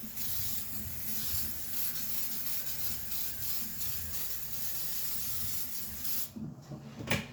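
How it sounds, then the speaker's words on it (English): A continuous soft hiss of cooking spray coats a baking dish for several seconds, fairly close, followed by a couple of light clicks. "I'm just going to spray the baking dish."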